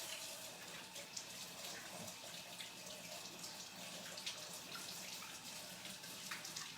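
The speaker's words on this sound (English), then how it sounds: "I'm gonna fill it up, rinse my hands with really cold water" Cold tap water runs at a kitchen sink, filling a cup and rinsing hands, a steady close rushing hiss that continues without a break and with no talking.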